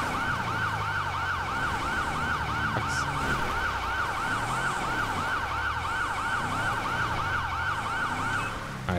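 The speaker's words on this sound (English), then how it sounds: "All right, that's enough with the siren." A police siren on a 2020 Silverado park ranger patrol vehicle in GTA 5 wails in a fast, steady cycle, loud and close, alongside a low engine rumble and no talk.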